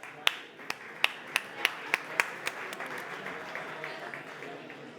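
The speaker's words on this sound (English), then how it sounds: "Let's give him a big round of applause." A sparse smattering of claps from a conference audience greets a speaker, a handful of distinct sharp claps early on that thin out into quiet room tone.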